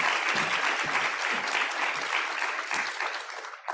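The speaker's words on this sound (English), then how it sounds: "Another round of applause for our amazing speakers and panelists today." Audience applause at the close of a healthcare foodservice culinary medicine panel discussion, a steady dense clapping from a room of people lasting the whole stretch before tapering off near the end.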